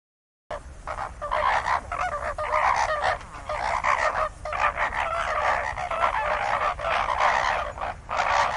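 Loud honking calls from a flock of flamingos, overlapping and continuous, close by with no pauses.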